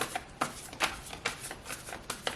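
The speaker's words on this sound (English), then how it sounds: "I know a lot of you even prefer the shuffling" Tarot cards being shuffled by hand make a run of soft, papery riffles at a steady rhythm, close and fairly quiet, with no talking.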